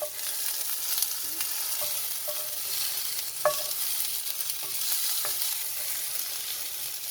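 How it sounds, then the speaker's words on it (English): Pieces roasting in a pan for mint chutney, turned one by one so each side cooks, give a steady close sizzle and fry with a few light stirring clicks and scrapes throughout. "Just by turning one by one pieces and roast them in all the sides."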